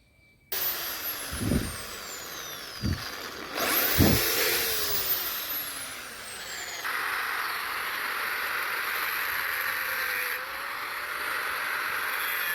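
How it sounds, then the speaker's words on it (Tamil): A few dull knocks, then a power drill runs continuously, its high whine shifting slightly in pitch as it cuts holes through metal on a TVS 50 electric conversion, close and loud. "அதுக்கு அடுத்த சைடு வந்துட்டு நான் ட்ரில் போட்டு எடுத்துக்கிறேன்."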